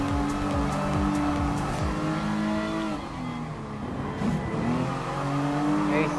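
A roadster race car engine in a racing video game roars steadily and loudly, with rising and falling revs, gear shifts and a brief dip in the middle before pulling hard again.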